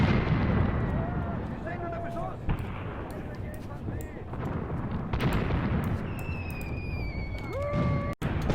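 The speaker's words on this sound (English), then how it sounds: "focus all of the gunfire" Dense, continuous gunfire and distant blasts roll through a busy battle soundscape in the war video game Graviteam Tactics: Mius Front, loud and unbroken, with occasional whistling tones, sharp bursts and machine-gun fire.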